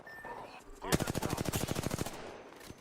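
Rapid automatic gunfire bursts in a video game, a fast rhythmic string of loud shots lasting a couple of seconds after a brief quieter lead-in.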